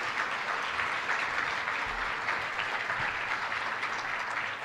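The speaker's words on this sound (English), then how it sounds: "So, round of applause there." Audience at a business school luncheon applauds in a steady, continuous wash of clapping lasting several seconds, moderately loud and without speech.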